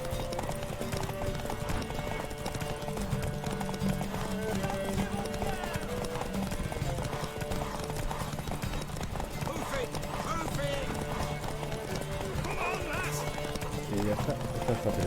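Rhythmic clip-clop of a galloping horse in The Witcher III: Wild Hunt video game runs steadily beneath background music and voices, with an occasional horse whinny.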